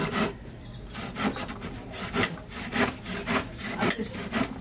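Hand saw cutting through wood in steady back-and-forth strokes, each a loud rasping pass repeating roughly twice a second, heard up close without talk.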